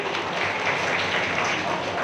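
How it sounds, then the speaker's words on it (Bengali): An audience claps steadily at a yoga and medicine centre gathering, a dense, even wash of applause that holds at the same level throughout without pauses. "আমি তাপবাবুর জন্য একটু হাততালি চাইছি।"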